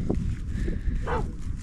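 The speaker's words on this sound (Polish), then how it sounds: "O, właśnie słychać psa szczekającego." A dog barks once or twice in the distance at a campsite in the Lofoten Islands, Norway, faint against steady outdoor background noise, with no talk.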